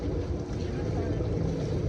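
A motorboat carrying tourists in China drones steadily and loudly close up, its low engine rumble mixed with wind buffeting the microphone and a faint wash of water throughout.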